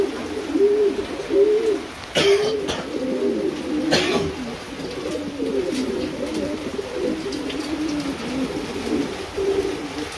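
Fancy pigeons at a sale coo repeatedly in rolling, overlapping calls, close and fairly loud, with a couple of brief thumps and no talk.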